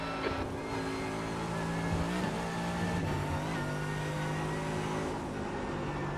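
Mercedes AMG GT3 race car in iRacing at Watkins Glen during an IMSA race, its engine droning steadily and loudly throughout with shifting pitch as it accelerates and changes gear, no one talking.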